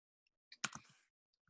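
A computer keyboard gives a brief cluster of quick, close clicks and taps, a short burst of typing set against near silence.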